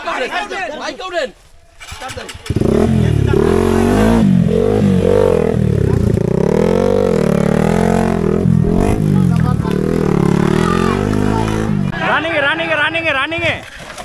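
Off-road racing motorcycle engines rev and roar at a Bangladeshi off-road racing competition, loud and continuous with rising and falling pitch, mixed with crowd noise and shouting voices.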